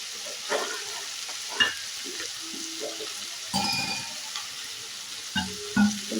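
Tomatoes sautéing in a pan for hotel-style kharabath, giving a steady low sizzle with occasional spoon scrapes and clinks against the pan, close and fairly quiet, without any talking.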